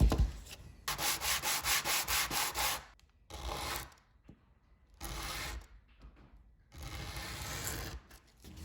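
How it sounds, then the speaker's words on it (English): A wooden dart holder is sanded in close, loud bursts of rhythmic rubbing, four separate stretches of scratchy back-and-forth strokes with quiet gaps between. "we're going to give this a sanding"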